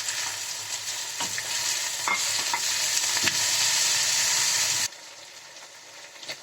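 Spices and chopped tomato sizzling loudly in a pan as fish oil is added, a bright hiss that builds for several seconds with a few stirring knocks, then cuts to a much quieter simmer.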